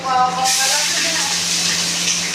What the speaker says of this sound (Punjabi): ਲਓ ਜੀ ਤੜਕਾ ਲੱਗ ਰਿਹਾ